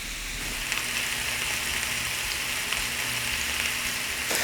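Ribeye steak frying in a pan, a steady, even sizzle with a bright crackling hiss that holds at a constant level, close and alone with no talking.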